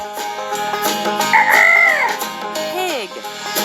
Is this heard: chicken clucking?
yes